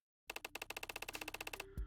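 Gunshot sound effect from an audio drama: a rapid burst of about fifteen sharp, evenly spaced cracks like automatic fire, followed by a single heavier low thump, close and dry against silence.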